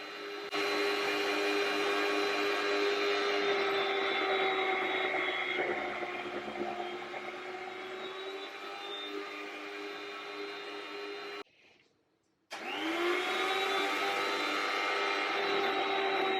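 A cheap electric meat slicer runs with a steady, loud motor whine and blade hum while slicing a meat batch, cutting out briefly near the end and then starting again.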